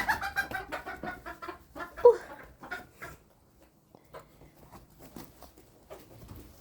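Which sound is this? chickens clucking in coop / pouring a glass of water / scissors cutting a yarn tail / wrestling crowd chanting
chickens clucking in coop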